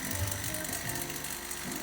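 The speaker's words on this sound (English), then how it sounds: "This pipe, this stainless steel pipe is rumbling." A stainless steel pipe on a JEOL JSM-5600LV scanning electron microscope under rebuild rumbles as its turbo pump spins up, a continuous mechanical whir with a low hum and faint ratcheting texture.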